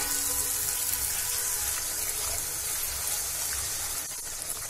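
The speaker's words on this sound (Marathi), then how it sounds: "आता आपण याच्यामध्ये 1 ग्लास पाणी टाकूया." Water is poured from a glass into a pan of curry made with dried bombil (Bombay duck), potatoes, turmeric and masala. It makes a steady, even rush of splashing liquid that lasts throughout, with no voices.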